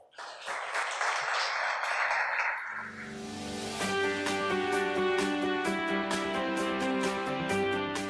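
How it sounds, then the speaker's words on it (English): Audience applause greets two entrepreneurs brought on stage at a 2018 SME Week business event: a dense burst of clapping fills the first few seconds, then gives way to music with steady tones. "A round of applause, please."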